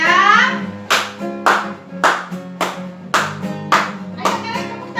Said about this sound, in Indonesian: Ayo Caleb tepuk tangan.